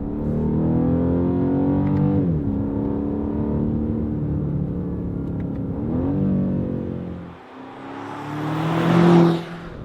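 A BMW M5 CS, a 635 hp sports saloon, driven on the road with its engine revving up through gears, rising pitch sweeps broken by brief dips at shifts, loud and close with a sharp surge near the end.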